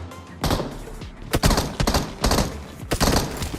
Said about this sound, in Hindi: और उतने मेरे ऊपर गोली चलती है।